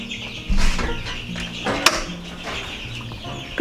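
Young chickens cluck and peep softly in a brooder, with scattered chirps and light rustling at close range.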